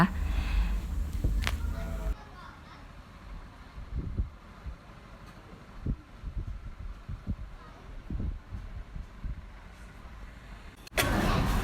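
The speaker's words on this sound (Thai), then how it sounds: "ระหว่างรออาหารนะคะก็จะมีเรือแล่นผ่านค่ะ" A boat passes on the river by a waterside restaurant at Pak Nam, Rayong, its low engine rumble running at moderate distance with uneven thumps, set between louder bursts of nearby noise at the start and end.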